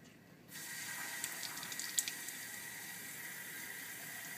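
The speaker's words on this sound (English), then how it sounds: "Run water through tap until cold" Tap water starts running and flows steadily into a sink, a soft continuous hiss with a few faint clinks.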